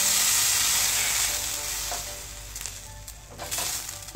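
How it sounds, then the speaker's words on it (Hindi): Three sandwiches sizzle steadily in a pan as milk is added over them, a close, continuous frying hiss that eases slightly partway through, with faint stirring sounds and no talking. "अब ये मैंने तीनों सैंडविच वापस पैन में वैसे ही रख दिए हैं और मैं इसके ऊपर थोड़ा थोड़ा सा मिल्क"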